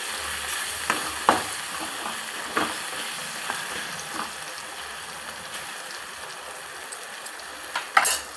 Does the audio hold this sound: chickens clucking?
no